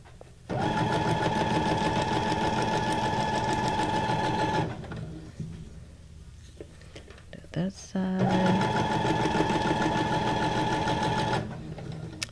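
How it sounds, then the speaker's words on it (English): Sewing machine running in two long, steady whirring stretches separated by a pause with light handling noises, close and loud, with no voices over it. "You're ready to get your sewing machines out now, aren't you?"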